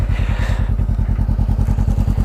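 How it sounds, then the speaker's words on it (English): A 2016 Honda CBR500R fitted with an Akrapovic exhaust idles close by, its twin-cylinder engine putting out a rapid, steady, thumping pulse with a deep, even throb throughout. "I'll turn it on and you can hear for yourself what it sounds like with the non-stock exhaust"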